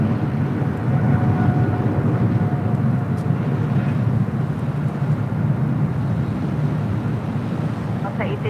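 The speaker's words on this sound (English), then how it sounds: "We do have a 777 freighter rolling down 25 left" A Boeing 777 freighter rolling down runway 25 left at LAX, a steady broad engine roar heard from a distance, constant and fairly loud with wind noise, under a person talking.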